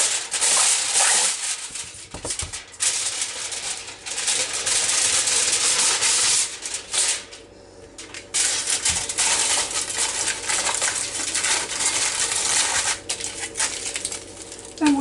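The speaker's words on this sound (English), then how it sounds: "today, I'm just going to wrap them in aluminum foil" Aluminum foil crinkles and rustles as sweet potatoes are wrapped for baking: bursts of bright, papery crackling that stop briefly, then resume close and fairly loud.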